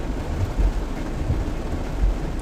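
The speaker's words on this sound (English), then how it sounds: "It's raining pretty good, and of course the lightning." Rain falls steadily during an evening thunderstorm, with soft low thumps and rumbles rising and fading under the constant patter; no one speaks.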